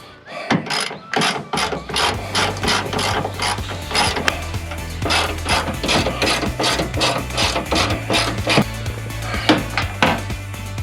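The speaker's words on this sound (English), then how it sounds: "we got Torx heads here that we got to take out to remove our handle" Torx screws come out of the tailgate grab bar on a Ford F250 Super Duty with a power driver, which ratchets in bursts and clicks repeatedly up close, with no talking.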